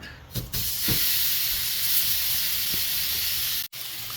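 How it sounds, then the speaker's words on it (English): Slit, seasoned beef shank searing in a hot pan, a loud steady hiss of sizzling meat after a couple of quick bumps, then one brief drop-out near the end. "We're gonna let it get a good sear all over"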